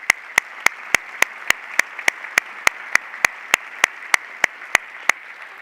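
Evenly spaced, crisp claps sound at a steady quick beat at an annual meeting and luncheon, about three per second over a faint background hum, with no crowd cheering.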